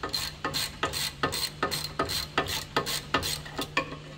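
A ratchet winds out a rear brake caliper bolt on a VW Golf GTI Mk7, a close, loud, steady run of about ten regular clicking strokes.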